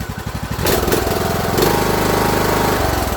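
A free Craftsman LT2000 riding mower, just repaired after an anti-backfire fault, runs at close range with a steady, loud engine chug after a few sputtering pulses at the start.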